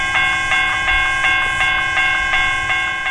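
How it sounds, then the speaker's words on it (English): An Amtrak 97 passenger train crosses the St. Johns River bridge on Florida's A Line, giving a loud, close, sustained tonal drone marked by regular rhythmic pulses and rumble underneath. "Amtrak 97 was crossing the St."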